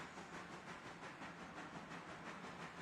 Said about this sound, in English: I like hearing that chugging